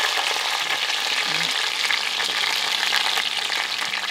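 Food fries in a pot over a flame while a stuffed, rolled lamb shoulder is being prepared. A steady, dense sizzle runs close and loud throughout, with a few faint low clinks and no talk.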